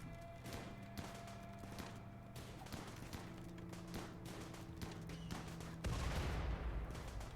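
Pump shotgun shots and other gunfire in RimWorld: a string of sharp, quiet cracks scattered through the stretch, with steady game tones underneath and a heavier burst of noise near the end.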